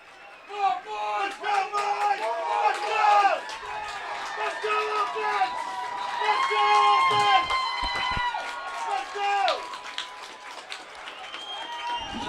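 Garnet Valley fans in the stands at a high school playoff football game, a sustained crowd roar of cheering, shouting and whistles that rises and swells in waves, with distant voices mixed throughout.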